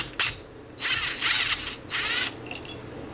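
A socket ratchet breaks a retaining bolt loose on a car engine: short bursts of fast, close ratchet clicking in two main pulls, with a brief click before and after.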